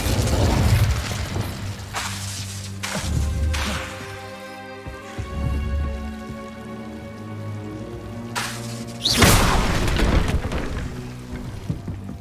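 Spell effects in the video game Hogwarts Legacy, including an Incendio fire spell: a series of whooshing, crackling bursts and rumbling impacts over a layered game soundtrack, with one loud fiery blast near the end.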